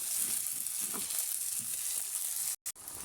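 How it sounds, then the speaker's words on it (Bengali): A ground spice paste with cumin, ginger and garam masala fries in a pan, sending up a steady, close sizzle that cuts out briefly near the end before resuming. "এখানে জিরা, আদা, গরম মশলা দিয়েছি, ভেজে নিব।"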